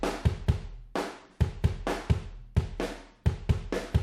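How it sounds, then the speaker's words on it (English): Emo pop punk drum kit in a big modern shell-room sound, lightly compressed with slow attack and fast release to lift the transients; punchy kick and snare hits fall in a steady rock groove with bright cymbal wash, loud and alone. "And then we've got the Modern and Massive shell room with a bit of compression happening here."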